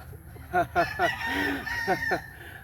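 A rooster crows nearby, a loud drawn-out cock-a-doodle-doo with a few clucks around it.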